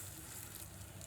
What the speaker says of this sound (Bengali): এই যে দেখেন চপ ভাজি শুরু করলাম